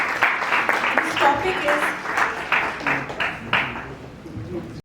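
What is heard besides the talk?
applause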